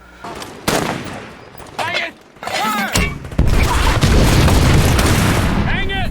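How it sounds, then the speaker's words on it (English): Mortar fire in a battle scene from the HBO World War II series The Pacific, set at Peleliu: loud booms and blasts in a chaotic sequence under shouting voices, building to sustained, dense roaring noise. "They get the mortar ready to go, and they say hanging, fire one, hanging, fire two."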